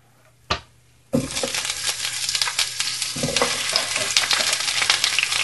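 Vegetables tossed into a hot pan for lasagna: one sharp knock, then a sudden loud sizzle that crackles on steadily with scraping and stirring sounds close by.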